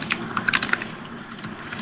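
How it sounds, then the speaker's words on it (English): Rapid keystrokes on a computer keyboard close by, clacking in quick irregular bursts with a brief pause midway before resuming. "I hear Walt clacking at the keys."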